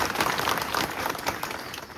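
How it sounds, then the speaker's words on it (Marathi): An audience at a political campaign launch rally applauds, a dense, steady wash of many hands clapping that fades slightly toward the end. "मी आपल्या सर्वांना विनंती करतो की त्यांचं टाळ्या वाजून आपण अभिनंदन करू"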